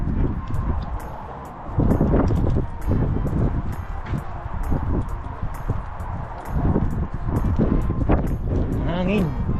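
Steady wind buffets the microphone in low rumbling gusts, with faint voices and scattered background sounds underneath.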